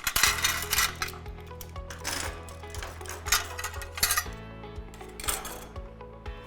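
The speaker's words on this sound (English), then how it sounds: "Put our knives and forks out." Metal utensils clink and chime one after another as they are set down, bright ringing taps over a low steady musical hum.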